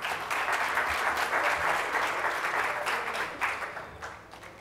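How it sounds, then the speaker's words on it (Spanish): A seated audience at the CADE 2014 business conference gives a speaker a strong round of applause, dense, even clapping from many people that holds steady and then gradually thins toward the end. "Un fuerte aplauso, por favor."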